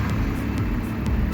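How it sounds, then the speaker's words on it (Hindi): A manual car's engine idles right after a key-turn start, a loud close rumble that holds steady for a brief moment. "इस साउंड के साथ में हमारी गाड़ी का इंजन स्टार्ट हो गया है"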